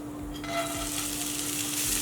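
Sprouted moth beans frying in oil in a kadai, a steady close sizzle with soft stirring scrapes throughout, no talking.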